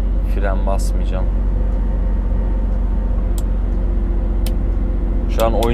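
A heavy loaded truck coasts downhill without braking on a mountain road, its engine giving a steady low rumble throughout while someone talks over it.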